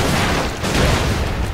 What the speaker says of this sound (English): Oh, I'm gonna throw a rocket.